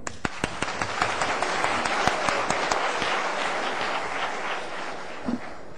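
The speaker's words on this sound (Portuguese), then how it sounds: "Palmas para o Matheus." An audience breaks into applause during a hospital grand rounds session, starting as a few sharp separate claps and swelling into a dense, steady ovation that stays loud throughout.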